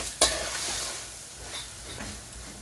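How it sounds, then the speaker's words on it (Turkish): Butter, close to a kilo, melting and sizzling in a large pot for a hundred-person rice pilaf, with a sharp clatter near the start and then a steady, close frying hiss with soft stirring scrapes. "Tereyağımız erimeye başladığında pirinçlerimizi ilave edeceğiz."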